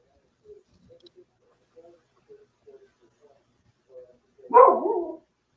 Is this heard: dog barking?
yes